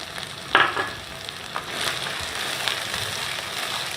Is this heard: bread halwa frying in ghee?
yes